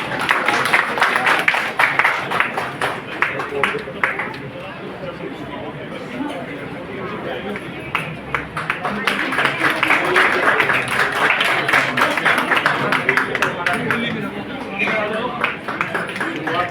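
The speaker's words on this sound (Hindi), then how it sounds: "जोरदार तालियां बजाओ इन बच्चों के लिए" A crowd at a Sen Ji Maharaj Jayanti festival in Shakurpur claps loudly and steadily for children, with dense, sustained applause that swells and dips alongside background chatter.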